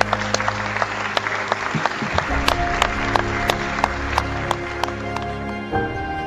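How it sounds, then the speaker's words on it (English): Stadium crowd at Kenilworth Road, Luton Town's football ground, applauding in a sustained, even wash of clapping, with sharper claps standing out and a low sustained tone running beneath before fading near the end. "That is an applause around Kenilworth Road"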